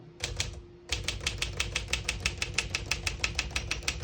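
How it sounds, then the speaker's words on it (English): Keys clack steadily on a 1957 Smith-Corona Silent-Super portable typewriter, a brief burst and a pause, then an even run of sharp strikes in quick rhythm, close and clear. "all the keys type nice and none of them skip or stick"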